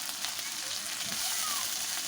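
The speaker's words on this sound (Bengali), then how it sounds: "পেঁয়াজটা লাল লাল করে ভাজা হয়ে গেছে এখন আমি আদা রসুন ও লঙ্কা বাটাটা দিয়ে দিলাম" Ginger, garlic and chili paste goes into a pan of reddish-brown fried onions and sizzles in a brief, close, steady burst. No voice is heard.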